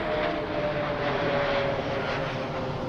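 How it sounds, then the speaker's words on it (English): A fixed-wing airplane passes overhead along a flight path near a home garden, its engine producing a steady, fairly loud drone for the whole stretch, with no talking. "Planes are coming in."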